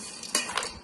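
Maggi noodles stirred with sauce in a pan, a short burst of utensil scraping and clinking against the pan with a faint sizzle underneath.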